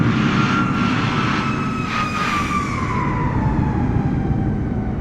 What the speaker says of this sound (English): Sounded like somebody just buzzed the airport here, maybe.